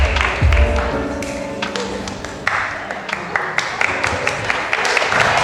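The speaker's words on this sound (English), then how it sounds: "Give a round of applause for Sue." An audience at a church gathering applauds as a guest is welcomed on stage, a steady round of clapping that gradually thins into scattered claps over several seconds.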